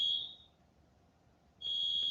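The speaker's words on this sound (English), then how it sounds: "Oh, we got the alarm going off here." Building fire alarm sounding in two loud, shrill electronic tone bursts, the first cutting off after half a second and the second starting again near the end, with a quiet pause between.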